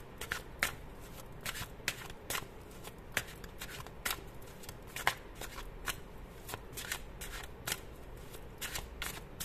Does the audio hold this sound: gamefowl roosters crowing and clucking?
no